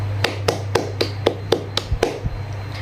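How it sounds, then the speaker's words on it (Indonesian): Students clapping for themselves in an Indonesian elementary classroom, a crisp series of about ten evenly spaced claps in a steady rhythm, close and fairly loud. "beri aplaus untuk kita semua"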